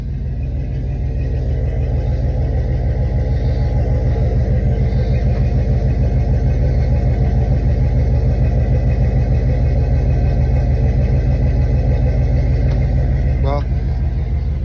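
A deep, steady pickup truck engine idle through a full custom exhaust with headers, rumbles continuously throughout, a low throaty drone with no breaks, close and loud.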